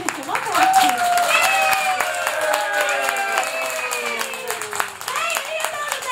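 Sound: audience applause at an in-store live event

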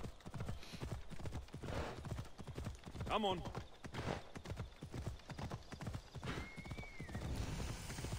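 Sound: horse hooves and whinny, video game Assassin's Creed Odyssey

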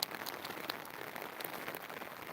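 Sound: rain

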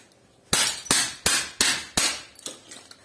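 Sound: hammer tapping to knock copper out of iron

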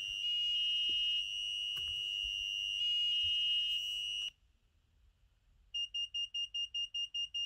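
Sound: Arduino active buzzer beeping with 100 millisecond delay

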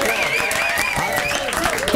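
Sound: studio audience applause after a live performance

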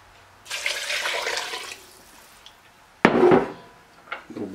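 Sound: water poured into a soup pot

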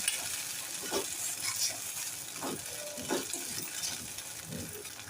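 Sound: stirring in a pan

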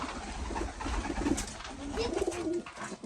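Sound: Hünkâr pigeons cooing

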